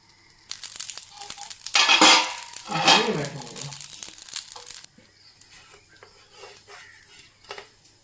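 A lid goes onto a pan while a coconut dosa cooks over a low flame, giving a few close metallic clatters and rattles followed by quieter light tapping and kitchen handling.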